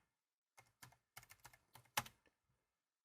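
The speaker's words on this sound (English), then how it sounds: "press the delete key on the keyboard, for example, or just start typing" Keys on a computer keyboard are typed in a quick irregular run of about nine clicks, close and fairly quiet, with a short pause before the last faint tap.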